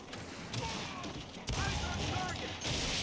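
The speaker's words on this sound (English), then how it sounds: "some of these shots they're shooting are so strong" Gunfire in the Gears 5 video game, dense bursts of shots at steady loudness through the clip, with stronger volleys kicking in partway and near the end, under faint background game noise.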